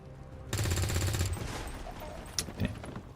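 Gunfire in XCOM 2: a rapid burst of automatic shots lasting under a second, followed by a couple of sharper single reports, loud and close over a quiet game backdrop.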